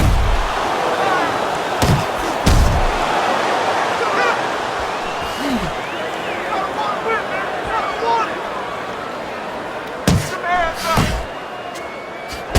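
Punches thud home in the Fight Night Champion boxing game, a few sharp impacts standing out over a steady crowd roar while commentary runs throughout.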